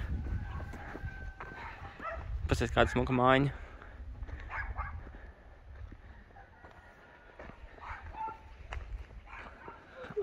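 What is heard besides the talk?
dogs barking in a village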